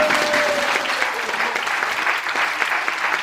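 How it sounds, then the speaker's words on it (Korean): A church congregation applauds steadily and loudly, a dense wash of clapping that holds for a few seconds without letting up. "박수"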